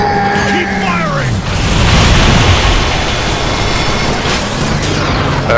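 Missile explosions in a shooter video game, a loud continuous rumble of booms and bursts with whooshing sweeps, dense and sustained.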